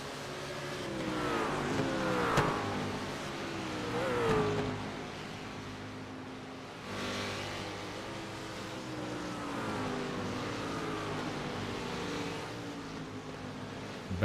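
A race car on the front straight at Lime Rock Park during a historic GT series event, engine note rising and falling through gear changes, fairly faint and distant throughout.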